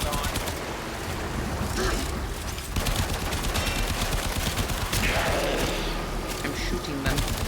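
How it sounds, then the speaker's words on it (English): Rapid bursts of in-game gunfire from the video game Warframe, dense and continuous over several seconds, mixed with chaotic combat effects under intermittent talk. "I'm shooting them."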